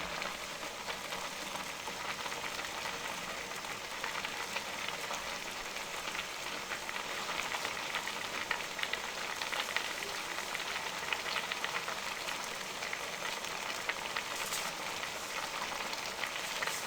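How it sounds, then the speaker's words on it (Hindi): Milk with carrots boiling in a pot for carrot halwa, giving a steady, soft, hissing bubble that runs evenly throughout with no voices. "अब दूध को उबाल आना शुरू हो गया है। अब गाजरें हमारी बहुत अच्छे तरीके से दूध में पक रही हैं।"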